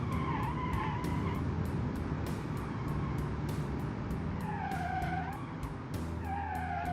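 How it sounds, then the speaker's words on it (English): A fast 1950s car's tires squeal and skid under locked brakes in a driving game on a desert highway, a loud, wavering screech repeating over a steady engine roar as the car nearly spins. "Now let's try and stop it, because the brakes will lock, so I'm gonna be gentle."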